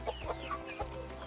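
Hens cluck in a backyard chicken coop, a few short bursts of clucking scattered over a low steady hum, fairly quiet and close with no talking.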